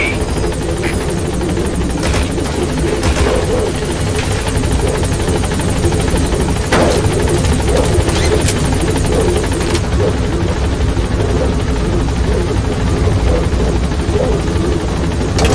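Pequod, the helicopter from Metal Gear Solid V: The Phantom Pain, holds a steady, loud rotor drone throughout, with a few sharper transient bursts layered over the continuous thrum.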